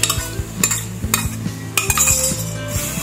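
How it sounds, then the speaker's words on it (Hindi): Dal is stirred into cooked masala in a pot: repeated rhythmic spoon scrapes and clanks against the metal pot over a faint sizzle, close and loud, no talking. "अच्छे से कर लेते हैं मिक्स"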